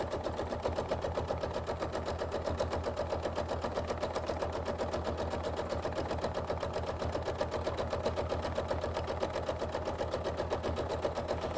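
A sewing machine stitches around a quilt applique, its needle hammering in a fast, even, unbroken rhythm at low volume throughout.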